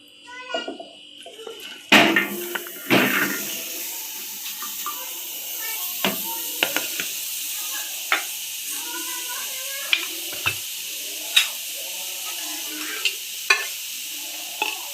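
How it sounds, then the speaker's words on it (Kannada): Brinjal and chana dal fry in oil in a pan, with a steady hiss of sizzling and repeated sharp scrapes and clacks of a spatula stirring. Faint voices can be heard in the background. "ಇದನ್ನು ನಾವು ಚೆನ್ನಾಗಿ ಹುರಿದುಕೊಳ್ಳೋಣ"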